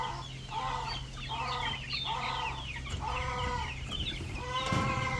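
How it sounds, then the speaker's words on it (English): Black Australorp chicks being moved to a chicken coop give a run of repeated, evenly spaced clucks and peeps over a steady low background hum. "So here the guys were assisting me to move the chicks to the chicken coop."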